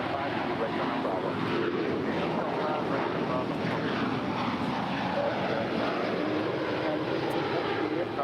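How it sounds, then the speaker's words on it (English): A Lufthansa Airbus A350-900 departs Los Angeles International Airport, a broad loud jet engine roar mixed with wind buffeting on the microphone, sustained throughout with faint voices underneath. "Now departing is the Lufthansa"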